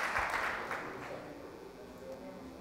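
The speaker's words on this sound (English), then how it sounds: "Give these guys a round of applause." Keynote audience clapping together, a dense burst of applause that is loudest at first and then thins and fades over a couple of seconds.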